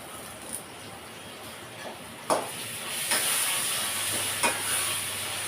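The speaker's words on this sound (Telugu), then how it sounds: "ఇప్పుడు ఇందులో మనం కరివేపాకు వేస్తాం" Curry leaves go into frying cabbage curry, bringing a steady close sizzle with sharp bursts of hiss and occasional stirring scrapes in the pan.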